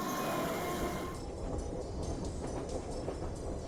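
A train in the anime Neon Genesis Evangelion rumbles along with a low, continuous rolling sound and faint rhythmic rail clatter, soft and steady with no talk.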